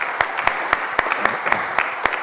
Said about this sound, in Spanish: un fuerte aplauso por compartir con sus conocimientos.